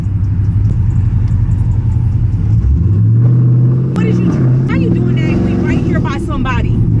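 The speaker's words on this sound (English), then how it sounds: "Why the car sound like it just shot somebody?" Loud, deep exhaust rumble from a Dodge Charger Scat Pack while driving, a heavy continuous drone with a couple of sharp cracks near the end, and people talking excitedly inside the car.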